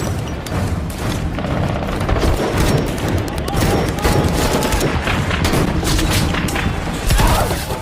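Dense gunfire and booming explosions from a battle at a last fortress in an action film, with continuous loud bursts and rattling shots layered over one another, heavy and close throughout.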